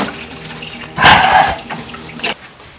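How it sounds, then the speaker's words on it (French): Tap water runs into a sink while fiddleheads are rinsed, a steady close splashing that swells into a louder gush for about a second and a half before dropping back to a softer trickle. "Mon assistant fait couler l'eau."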